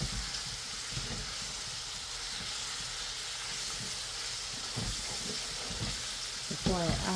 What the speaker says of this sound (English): So we're just gonna give this a good fry for the next 10 minutes